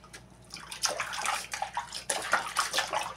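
Running water splashes over a small dog during a bath at home, uneven sloshing and pouring surges that rise and fall close by, with no talking.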